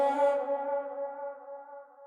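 A short sustained vocal chop sample, a single bright tonal voice note with a breathy onset that rings on and slowly fades with a light echo, heard alone.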